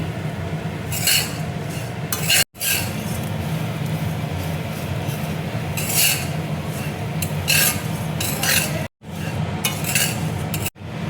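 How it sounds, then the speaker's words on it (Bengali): Flattened rice (chiwda) stirred as it fries in hot oil in a pan: repeated scraping and rasping strokes of a spatula against metal with light clinks, fairly close and steady, broken by brief silent gaps, no talking. "চিড়ে দেখো ভাজা হয়ে গেছে"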